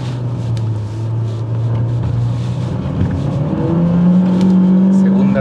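A Renault Duster 4WD with a 1.3 direct-injection turbo engine, 154 hp, pulls hard in second gear, its engine drone climbing steadily in pitch toward the rev limit, loud and close from inside the cabin.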